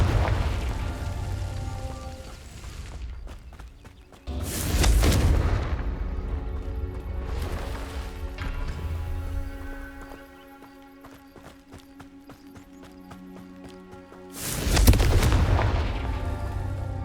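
Confringo fire spells burst in Hogwarts Legacy, giving heavy booming explosions, one loud blast early on and another near the end, with rumbling debris and softer rattling clatter in between.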